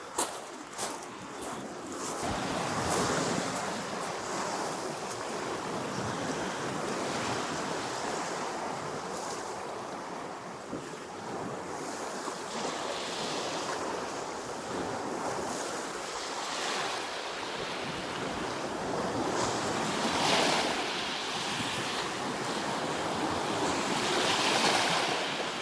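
Waves and wind on a nearly deserted beach at Porto Recanati on the Adriatic, with continuous surf washing in and wind buffeting the microphone, steady and fairly loud with no talk.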